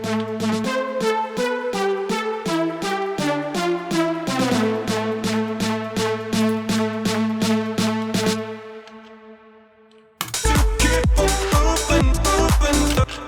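A progressive house track plays with a steady, driving beat and layered plucked synth chords. It thins into a sparse breakdown, then drops back in with a heavy, full-bodied kick and bass.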